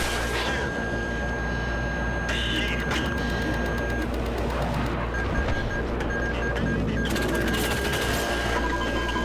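Dense automatic gunfire and explosions in the Battlefield 3 campaign, a loud continuous barrage of rapid shots with crashing impacts that fills the whole stretch without pause.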